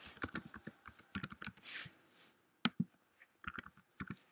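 Keyboard keys clicking in quick bursts while an email address is typed into a website registration form, close and fairly quiet with short pauses between runs of keystrokes.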